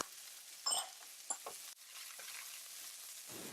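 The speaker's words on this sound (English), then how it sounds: "Add in the chopped onions and stir until it changes color slightly." Chopped onions and corn stir-fried in a pan for salmon fried rice, giving a faint steady sizzle with a few scraping clicks of a utensil against the pan.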